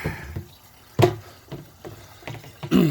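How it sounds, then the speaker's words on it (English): Water pours from an overflow pipe into a conical fermenter tank in an IBC aquaponics setup, giving irregular splashing gurgles and short bursts of flow, moderately close. "just from that that overflow right there, it's flowing in there on the left, which gives it a circular motion"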